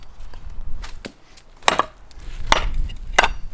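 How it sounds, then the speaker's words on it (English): Knife blade chopping wood, a Work Tuff Gear Night Hunter with a V grind taking light hacks: three sharp, separate chops spaced about a second apart, each a crisp woody thwack over faint background rustle. "Alright, so now we'll chop some of these down to size a little bit."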